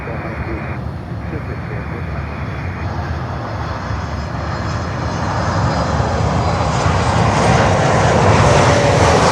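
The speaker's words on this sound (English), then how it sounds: "our Copa Airlines with the breast cancer awareness livery coming in. 737" Copa Airlines Boeing 737 MAX 9, two years old, coming in to land at Miami on runway 09: a steady engine roar that grows louder and nearer toward the end, with someone talking over it early on.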